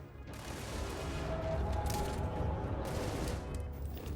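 Enemy gunfire in the video game Starfield keeps up as a continuous, fairly faint fusillade of mixed shots and clatter, steady under a dense noisy battle backdrop.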